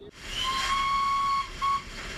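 A steam locomotive's whistle on the Settle and Carlisle Railway sounds one long steady shrill blast over a hiss of steam, then gives a second shorter toot, loud and close with no voices.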